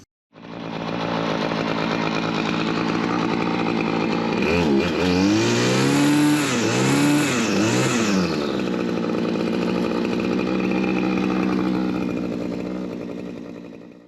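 A gas string trimmer engine fires up and runs at a loud buzzing idle close by, revving up and down several times midway before settling back to a steady drone.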